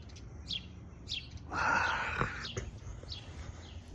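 Birds chirp loudly and repeatedly close by, with a dense burst of overlapping calls in the middle and short tweets recurring around it, set against a steady outdoor background.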